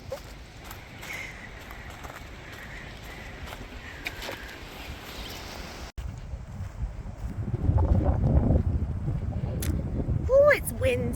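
Wind rushes and buffets the microphone at a campground, a low roaring gusty noise that strengthens in the second half of the clip.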